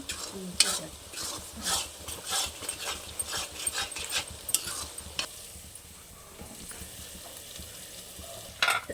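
Chicken pieces fry in a pan for chicken pickle and are stirred now and then: a close, even sizzle with intermittent scraping and knocks of the spoon, softening slightly near the end.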